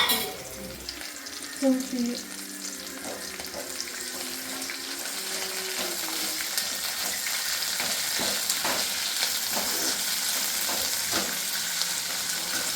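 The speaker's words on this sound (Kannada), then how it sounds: "ಕೊತ್ತಂಬರಿ ಸೊಪ್ಪು ಹಾಕಿ ಇನ್ನೊಂದು ಸರ್ತಿ ಫ್ರೈ ಮಾಡ್ಕೋಬೇಕು" Chilli chicken gravy with coriander leaves frying in a pan, opening with a brief clatter and stirring, then settling into a loud, steady hiss and sizzle close by, with no talking.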